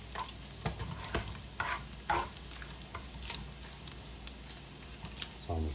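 Breakfast burrito filling fries close up in a pan, a steady sizzle broken by repeated spatula scrapes and stirring strokes as it is spread out.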